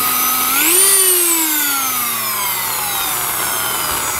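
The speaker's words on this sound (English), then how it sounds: "I'm not trying to take any metal or anything off just trying to scuff it up just a bit" A power tool spins up and whines steadily as it scuffs the rear brake parts of an EZGO golf cart, its pitch rising then slowly sagging under load, loud and close, with no talk.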